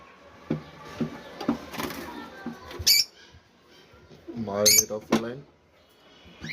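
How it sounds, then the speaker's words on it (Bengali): A pair of lutino lovebirds lets out shrill squawks, two sharp loud bursts standing out above chirps and someone speaking nearby. "এইখানে আছে এক জোড়া লুটিনো অফলাইন লাভবার্ড"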